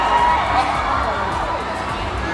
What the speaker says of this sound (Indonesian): Tepuk tangan yang meriah untuk Agoy Mahendra, Dania Salsabila.